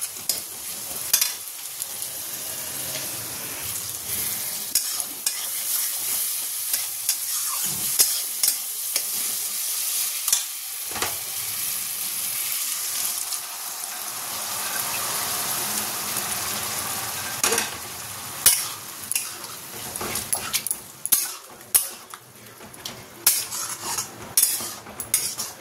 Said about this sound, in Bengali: এটা একটুখানি কষিয়ে নিয়ে আর তরকাটা দিয়ে দেবো